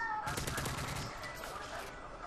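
Rapid hip-fire bursts from a gun in Call of Duty multiplayer, a quick rattle of automatic shots that is quiet and a little distant.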